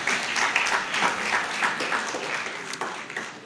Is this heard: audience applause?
yes